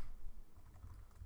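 Rapid keystrokes on a computer keyboard as a file name is typed, a close, continuous clatter of clicks lasting about a second.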